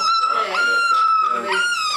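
A vocal puppy whimpers and whines in high, wavering cries, close and loud, with people talking over it.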